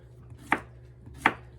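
Two crisp knife strikes on a cutting board as zucchini is cut into slices, close and distinct, about three-quarters of a second apart, with no voices.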